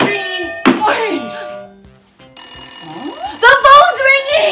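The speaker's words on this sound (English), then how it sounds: "The phone's ringing." Telephone ringing in a toy escape-room setup, a bright electronic ringing tone sounding twice with a clunk and a short gap between, while excited voices talk over it.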